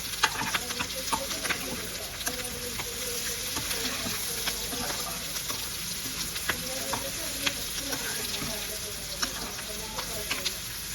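Radish stir-fry sizzling steadily in a pan at home, with scattered scrapes and clicks of stirring throughout and no talk.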